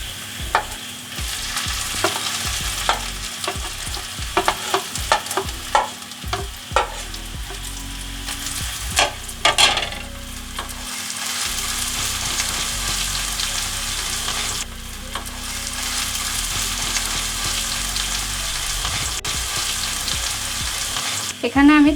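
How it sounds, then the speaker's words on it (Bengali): Grated potato goes into onions already fried deep red, setting off a loud, steady sizzle of frying with scraping stirs and clatter early on, the hiss holding strong and continuous throughout. "পেঁয়াজটা লাল লাল করে ভাজা হয়ে গেছে। এবার আমি এর মধ্যে গ্রেট করা আলুটা দিয়ে দেবো।"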